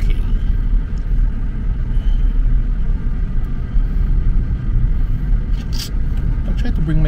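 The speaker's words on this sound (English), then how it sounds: "I'm driving by myself" Steady low road rumble of a car cruising along with one person driving alone, a continuous engine and tire drone filling the low end with no breaks and no talk.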